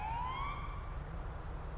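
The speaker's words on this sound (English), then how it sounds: "If I hear a siren, pull over." A police siren wails in the video game GTA 5, a single rising tone that sweeps up and then levels off, heard at moderate volume over a low background rumble with no talking.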